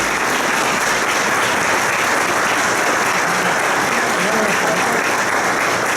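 A lecture audience, on its feet, gives a sustained, dense round of applause that holds steady and fairly loud throughout.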